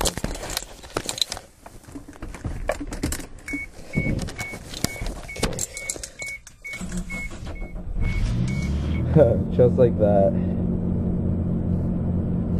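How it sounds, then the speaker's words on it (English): A 1991 Suzuki Sidekick is cold-started. Clicks and clatter come first, then the engine catches and settles into a steady, high idle rumble, close by, while someone speaks briefly. "Has a really high idle when it's cold."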